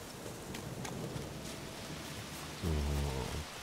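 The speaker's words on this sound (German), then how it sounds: "Sieht nach Regen aus." Steady rain hissing in The Witcher 3 game world, a continuous broadband patter with a low rumble swelling near the end like distant thunder.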